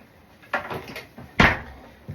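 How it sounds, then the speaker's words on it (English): A kitchen drawer is shut after a can opener is put away inside it, giving two solid knocks, a softer bump and then a sharper close, near and without talk. "That goes back into the drawer."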